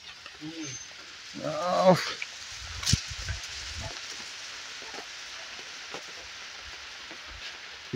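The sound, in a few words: rain falling at night camp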